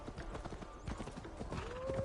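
Horse hooves clip-clop in a steady rhythm in the video game Assassin's Creed Valhalla, followed by a short neigh, all close and fairly loud over soft game ambience.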